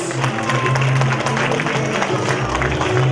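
Strong applause from a gathered audience welcoming a branch chairman to the stage at a Quran course graduation ceremony, broad steady clapping filling the hall throughout with a low hum beneath.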